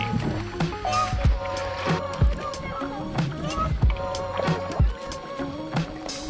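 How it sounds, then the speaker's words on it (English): Kayak paddling on a calm lake in a state park: rhythmic paddle strokes splash and drip at a steady pace close by, with some background sound and a voice present. "We will use the opportunity to do some kayaking."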